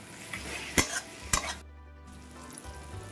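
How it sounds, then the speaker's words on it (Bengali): An onion, garlic, tomato and turmeric masala for mutton curry sizzles quietly in a pan, with two sharp spatula scrapes near the start and a brief hush before the low frying resumes. "দিয়ে একটু নাড়িয়ে চাড়িয়ে কষিয়ে দিলাম"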